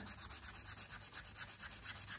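Steady, rhythmic rubbing against a wooden surface to remove jigsaw marks, quiet and close, repeating in short back-and-forth strokes.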